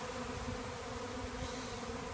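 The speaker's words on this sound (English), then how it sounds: "There's a lot of bees here." A dense swarm of honey bees hums in a steady, continuous drone, close and enveloping, with no voices.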